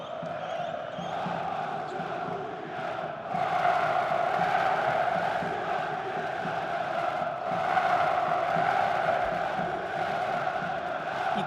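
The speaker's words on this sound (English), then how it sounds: "You gotta love this energy from the crowd." A basketball arena crowd at a FIBA semi-final between PAOK mateco and Cholet Basket roars and cheers in sustained waves that swell louder midway, with commentary over it.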